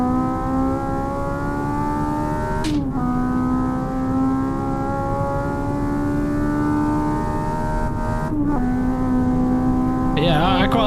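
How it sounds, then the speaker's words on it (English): A simulated Honda VTEC four-cylinder engine in Assetto Corsa drones at steady high revs, its pitch dropping briefly twice with quick gear shifts. "quite like the sound of a VTAC 4-cylinder Honda engine."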